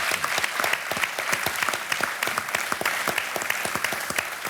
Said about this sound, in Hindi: केवल तालियों के साथ आपका हम अभिनंदन करते हैं